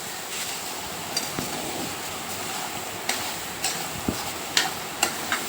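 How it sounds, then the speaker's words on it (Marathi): Dry grated coconut is sautéed in a pan for a coconut sweet, giving a steady soft hiss with occasional scraping stirs and light taps of the spoon, close and continuous. "तर एक दोन ते तीन मिनटं छान आपल्याला परतून घ्यायचं आहे"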